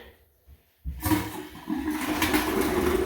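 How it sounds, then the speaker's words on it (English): A boiler heating system is drained down. After a near-silent start, a sudden loud rush of flowing water begins and continues steadily to the end, close by, with no voices. "let the system drain down until it's nothing"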